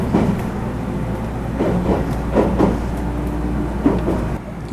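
Inside a moving Osaka Loop Line bound train carriage, a steady low rumble carries soft rhythmic wheel clicks and faint rattles, continuous and fairly loud with no talking.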